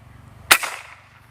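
A single sharp PCP air rifle shot from a Ruger Klasik Black Army cracks out, loud and close, followed by a brief fading hiss against a low steady hum.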